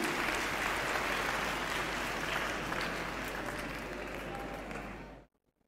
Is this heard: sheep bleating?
no